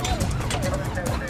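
A police dog van drives to a call with its siren wailing, its rising and falling tone running under an engine rumble and heavy cabin noise. Loud voices talk over it throughout.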